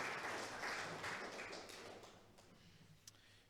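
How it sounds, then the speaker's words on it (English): A crowd claps in a dense burst that gradually thins and fades out, leaving scattered claps at the end. "join me once again in a final round of applause for them"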